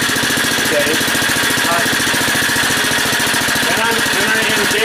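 Generac 4000EXL portable generator engine settled at low idle, a steady loud chugging thrum with rapid regular firing pulses throughout, close up and continuous.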